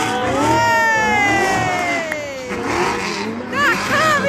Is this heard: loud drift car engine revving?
yes